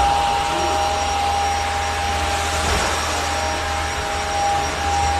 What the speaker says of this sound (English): There's some vacuum in the background.